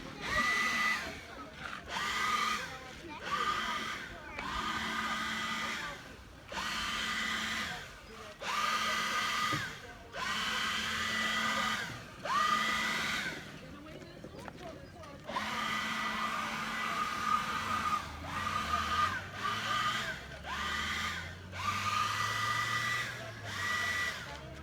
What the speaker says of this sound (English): In the meantime, I blow away the heavy dirt